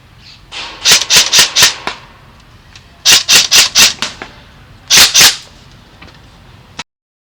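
An M4A1 SOPMOD Block II airsoft rifle fired on semi-auto, loud sharp cracks in three quick clusters of four to six shots each, separated by short pauses, with a final single shot.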